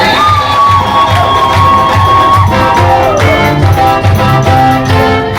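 A church congregation at a pastor's installation service cheers and claps loudly and continuously, with high whoops and ululating cries rising over the crowd's roar.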